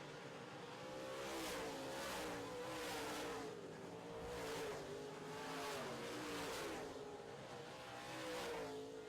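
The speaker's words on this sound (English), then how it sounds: "Aaron Holton trying to move the Ford through the field" Modified race cars, Fords among them, racing in a heat on a track, engines roaring in rising and falling waves as the cars pass again and again, loud and continuous.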